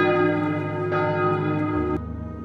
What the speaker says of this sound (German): Das Glockengeläut genießen.